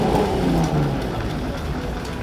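Car engines at a local car meet in a parking lot rumble steadily with a deep, continuous roar that swells slightly early on, then holds at a constant level with no talking.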